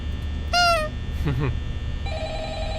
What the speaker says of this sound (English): I wonder if do I get another phone call?